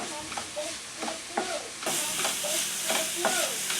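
Sausage frying in a pan, a steady broadband sizzle with a brief pause and repeated scraping stir strokes; the sizzle grows louder and denser partway through, close and continuous.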